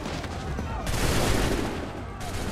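Musket volley in Assassin's Creed 3, a dense rolling crackle of many shots fired together, loud and continuous, with a voice mixed in.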